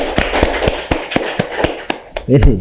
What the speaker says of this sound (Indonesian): langsung saja kita berikan tepuk tangan yang meriah untuk PC PMI Kabupaten Garut.